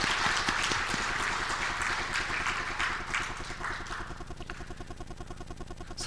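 A church congregation applauds during a Sunday morning service, a dense burst of clapping that fills the room and slowly thins toward the end, with no voices over it.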